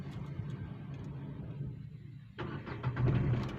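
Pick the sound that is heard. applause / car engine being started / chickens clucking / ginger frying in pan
car engine being started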